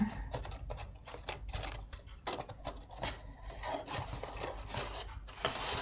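Paper card pressed and rubbed down by hand so it sticks, while a Stampin'Up! surprise box is assembled; close, dry scratchy rubbing runs continuously with short rasping bursts and no talking.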